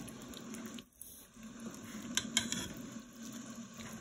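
Tuscan sauce stirred in a pan, giving a soft, steady sizzle with gentle bubbling and a few light scraping clicks from the stirring, quiet and close.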